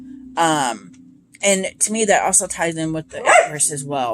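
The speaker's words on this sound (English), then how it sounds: "That's my dog wanting out because she just can't help herself." A dog barks a single sharp bark early on, wanting to be let out, mostly masked afterward by a person talking steadily nearby.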